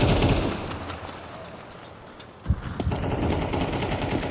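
Rapid automatic gunfire from a Counter-Strike 2 match on the Mirage map, with dense bursts of shots throughout and a sharp louder burst partway through, all over busy game background noise.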